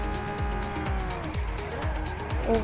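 A car accelerating in Roblox, its engine tone rising repeatedly through quick gear-like sweeps, steady and moderately loud with a faint tire squeal near the end.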